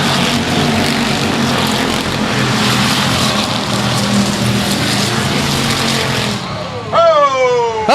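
Race cars roar together as they accelerate at the green flag on an oval speedway, a loud continuous engine rumble with rising revs near the end.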